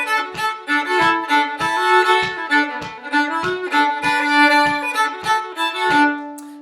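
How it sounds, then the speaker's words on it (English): Solo fiddle plays a snatch of the tune Through the Gates with a syncopated bowing pattern, bright sustained notes broken by regular bow changes, close and lively with no speech. "let me just play you a piece of that tune so you can see what bowing pattern I'm talking about"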